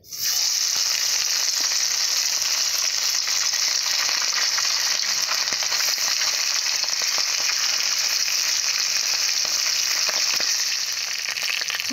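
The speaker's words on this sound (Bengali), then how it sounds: "মাছগুলো প্রথমে আমি ভেজে নেব" Mrigal fish, rubbed with spice, frying in hot oil, giving a loud, steady, dense sizzle that runs unbroken from start to finish with no voices.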